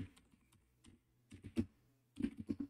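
Code is typed on a computer keyboard in scattered bursts of quiet, close key clicks, a few isolated taps followed by quicker clusters of keystrokes, with no talking.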